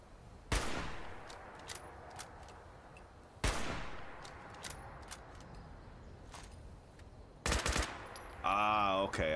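Short bursts of automatic gunfire in a Fallout game ring out three times, spaced a few seconds apart, each a sharp crackling volley fading into quiet, with a brief electronic chime at the end.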